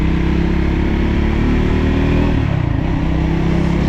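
A 2025 Triumph Scrambler 400X single-cylinder motorcycle runs close and loud while ridden, its engine droning steadily and the pitch dipping briefly as it eases off.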